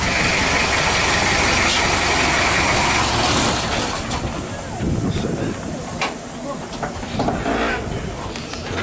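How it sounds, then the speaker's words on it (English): Diesel train engine idling and rumbling close by with a steady hiss, loud and continuous, with some shifting mechanical noise toward the end. "It's a diesel engine, I think."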